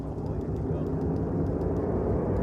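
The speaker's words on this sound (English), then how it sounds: "See them helicopters?" Helicopters fly overhead, a continuous low rumbling drone that stays steady and fairly loud for the whole stretch, with faint ticking on top and no clear break.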